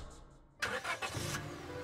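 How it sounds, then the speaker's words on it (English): A car engine cranks and catches, then settles into a steady idle after a brief quiet moment, heard close and clear with no voices. "Tentatively, I started the car and began my drive to work."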